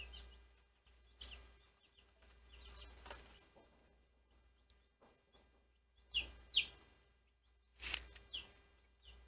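Olive Egger chicks peep softly in a brooder, with a few sharper, louder chirps near the end over a low background hum.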